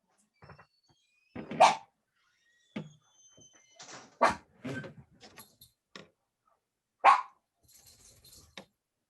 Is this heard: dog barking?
yes